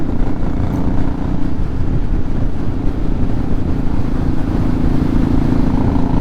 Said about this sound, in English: Sounds a little bit like a bubble bike, but when it's revving up that high, it sounds kind of cool